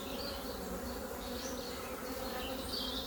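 Honeybees swarm around an opened hive colony as it is inspected, their dense, steady buzzing filling the space close to the microphone without a break.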